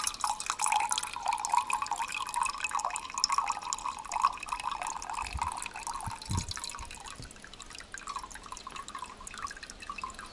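Water trickling at a slant through a badly punched hole in a pot lid at a remote wilderness camp: a steady, close, splashing stream with fine dripping detail, lasting about ten seconds with no talk.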